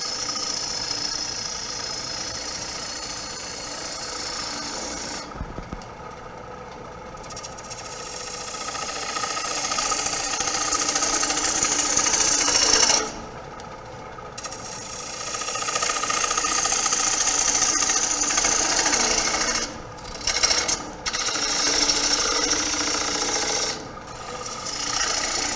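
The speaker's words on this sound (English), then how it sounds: "So speed up the lathe, take a slower cut" A wood lathe spins steadily while a gouge cuts the turning workpiece, making a continuous rasping, scraping hiss over a low motor drone. The sound breaks off briefly a few times, then resumes, with no talk.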